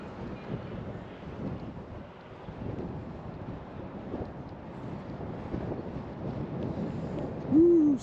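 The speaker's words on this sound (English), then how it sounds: "You can hear the wind probably on the microphone now." Outdoor wind buffets the microphone in a steady low rumble throughout, with a short hooting whoop close by near the end, at a paddling race.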